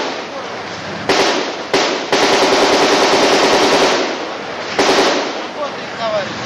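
Automatic weapons fire in urban combat during the second assault on Grozny: loud, close, rapid bursts that run almost continuously for several seconds, with short gaps between volleys.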